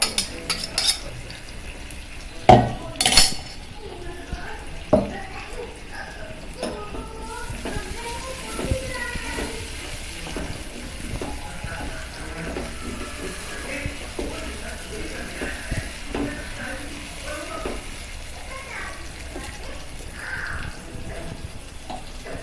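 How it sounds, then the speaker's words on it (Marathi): Ground spice paste for a mushroom dish sizzles steadily in hot oil, with a constant crackling hiss. A utensil clatters a few times near the start, and a voice speaks intermittently over the frying. "आता तेलामध्ये टाकलंय आहे याचं वाटण मला फ्राय करायचं का हो"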